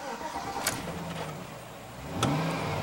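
A car engine idles smoothly at close range after a spark plug wire repair, a low steady hum with a couple of short mechanical clicks and a slight rise in level near the end.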